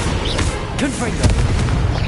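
A Confringo spell explosion in Hogwarts Legacy comes through as dense, booming blasts and crackling bursts layered over busy combat noise and whooshing effects, loud and continuous for a couple of seconds.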